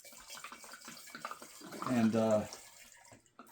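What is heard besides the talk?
wine being poured into a one-gallon glass jar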